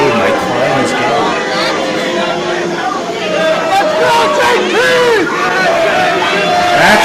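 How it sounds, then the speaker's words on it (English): A wrestling crowd at the Greenwood Lake Special event chatters and murmurs steadily throughout, a dense hubbub of many voices with occasional louder calls rising from the stands. "It actually sounds like there's a couple of JT Metal fans in the crowd."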